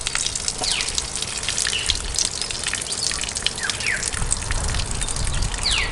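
Starchy water pouring out of a rice pot over an outdoor fire, a continuous splashing gush with trickling spatters, close and fairly loud with no talk.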